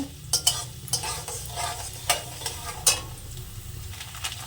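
Coconut frying in a wok: repeated scraping stir strokes at an uneven rhythm over a soft, continuous sizzle, close and fairly quiet.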